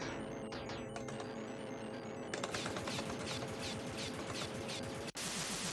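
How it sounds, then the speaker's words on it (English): Rapid crouching shots in the Aliens arcade game, fired at a mid-boss as a continuous stream of fast gunfire and clattering impacts over the game's steady background noise, loud throughout with one brief dropout near the end. "Just spam the crouching shot here in its face."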